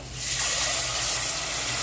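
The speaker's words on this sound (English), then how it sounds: "We're going to add 2 cups, which I already measured, 2 cups of water into the rice" Water poured from a measuring cup into a pot of cooked tomato and rice, a steady close splash and gush rising quickly and running evenly for nearly two seconds with no talking.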